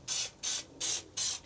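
Four quick bursts from a spray can with an adjustable nozzle coat the floor of a Chevy Express van build, each a sharp, close hiss about a quarter second long, evenly spaced, with no talking.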